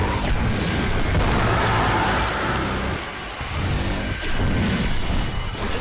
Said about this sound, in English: Throwing grenades anywhere and everywhere at the minute